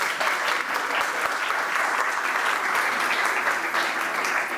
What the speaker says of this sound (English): got almost an applause